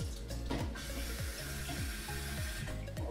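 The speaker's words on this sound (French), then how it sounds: "Je vais quand même la rincer un petit coup." Tap water runs steadily into a sink while a vase is rinsed under it, a close continuous splashing stream with a few shifting gurgles and no talking.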